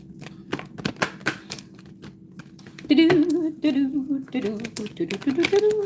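Tarot cards being shuffled, quick clicking riffles and taps in sharp bursts, with someone talking over the second half.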